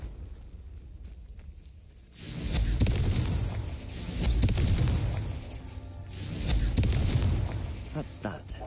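A Confringo spell in Hogwarts Legacy goes off three times in a row, each a heavy, rumbling explosive blast that swells and fades over a second or two, with a quieter hum between them.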